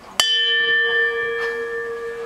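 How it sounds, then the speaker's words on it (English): A single strike of an air cargo shipment bell, a bright clear ring that sustains and slowly fades over about two seconds, close and alone with no talking. "Could you just ring it once so I could hear how it sounds?"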